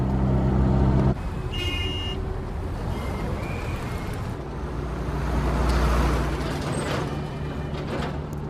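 Dense road traffic surrounds a taxi on a busy city street: a loud, steady roar of engines with a brief burst of high beeps partway through, swelling and easing slightly with no clear voices.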